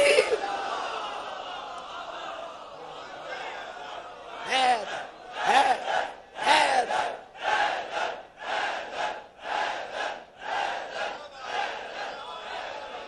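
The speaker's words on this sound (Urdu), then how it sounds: "نعرے لگا لگا کے تھک نہیں گئے ہو" Crowd at a Muharram majlis shouts religious slogans in loud rhythmic bursts, a call followed by repeated massed responses in a reverberant hall.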